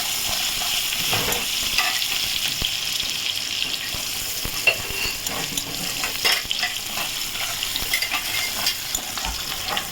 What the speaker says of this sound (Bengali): পেঁয়াজটা একটু গোল্ডেন কালার করে ভেজে নেবো।